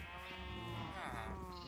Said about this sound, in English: now you can hear the sheep next to us